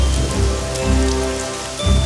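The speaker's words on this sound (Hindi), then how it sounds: "आखिरकार बारिश आ गई।" Rain patters steadily on a surface, a dense close hiss of falling drops with a few faint low swells beneath and no voices.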